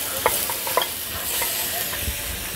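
Lamb shoulder browning in a pan, a steady close sizzle of frying meat with a few soft stirring scrapes and clinks, no voices.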